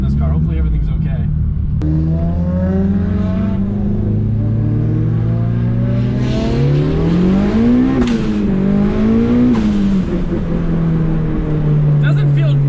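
A loud Mitsubishi Evo 5 race car engine heard from inside, pitch rising through several gear changes and accelerations, with a voice speaking briefly over the droning motor.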